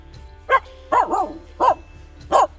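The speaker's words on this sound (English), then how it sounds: "Why are you barking, Emma?" A Finnish Spitz barks four times nearby, loud sharp yips spaced unevenly, one bark trailing into a short whiny yelp.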